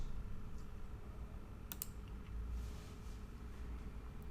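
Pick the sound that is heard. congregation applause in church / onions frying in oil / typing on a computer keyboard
typing on a computer keyboard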